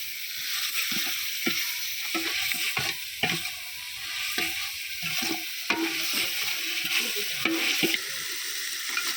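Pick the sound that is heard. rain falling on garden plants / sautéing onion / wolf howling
sautéing onion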